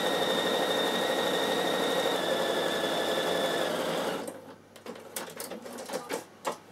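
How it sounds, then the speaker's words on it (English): Bernina sewing machine stitching rows on fabric for chenille, a steady high whirring hum for about four seconds that then stops, followed by light scattered handling clicks. "So I think I can do one more row of stitching."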